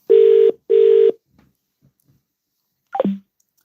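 Two steady, loud dialing tones sound in quick succession from a phone handset, then there is a short pause and a brief falling blip, with no talk.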